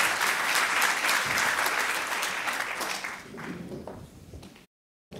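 An audience applauds round-table speakers at the presentation of a report on elderly-care professions, a dense steady clapping that fades toward the end before a short silence.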